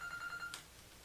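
A telephone rings with a brief electronic trill and chime in an office during a live market update, then stops quickly, heard alone at moderate level.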